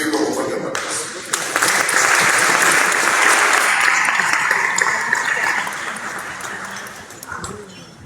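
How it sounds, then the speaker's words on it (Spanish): Strong audience applause at a legal forum in Peru, many hands clapping in a loud, sustained wash that builds after a brief start and eases slightly toward the close. "Lo recibimos con fuerte aplauso."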